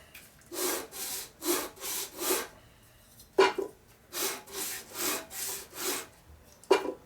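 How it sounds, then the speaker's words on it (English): Rhythmic back-and-forth hand sanding of a part from an old Harley M35 Linkert carburetor, close strokes in short bursts with brief pauses between passes, no talk. "Do a little sanding."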